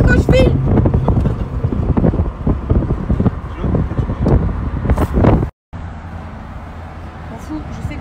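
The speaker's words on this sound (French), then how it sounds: "Ah, le vent." Wind buffets the microphone in a steady low rumble with brief gusts, and a voice talks over it; there is a short dropout near the end.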